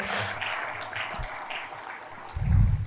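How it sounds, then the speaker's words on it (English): An audience applauds at a close-out ceremony, a soft, distant patter of clapping that swells louder near the end. "Ladies and gentlemen, please give a very resounding applause"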